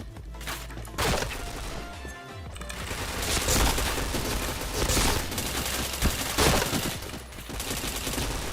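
Rapid bursts of automatic gunfire and single shots in a shooter video game, loud and repeated in clusters with brief gaps between volleys.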